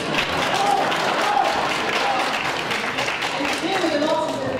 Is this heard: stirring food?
no